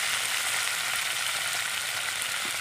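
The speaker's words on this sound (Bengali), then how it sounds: "আমি পটলটাকে ভালো করে ভেজে নেব।" Pointed gourd frying in hot oil with salt and turmeric gives a steady, fine crackling sizzle, moderately close and even throughout, with no talking.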